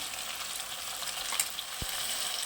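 A paste of tomato, almond and green chilli sizzles gently in a pan for a vegetable dish, a soft steady hiss with one brief low thump near the end, with no voices.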